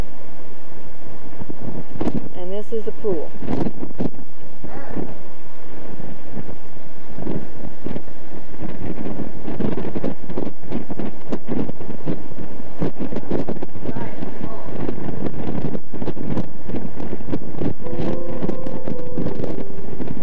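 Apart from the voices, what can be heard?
strong wind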